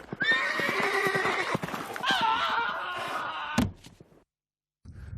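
Przewalski's horses give long, loud whinnies and neighs, with hooves clopping beneath, then a sharp thump before the sound drops to near silence.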